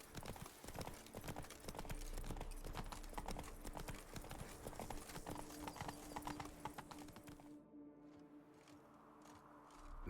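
Hooves of the horse Roach clip-clop in a rapid galloping rhythm across the Witcher 3 game world, loud and close for most of the stretch before cutting out into quieter ambience near the end.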